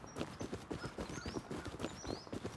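Horse hooves clip-clopping in the video game Rust, a quick steady galloping rhythm of close, moderately loud hoofbeats with faint game ambience behind.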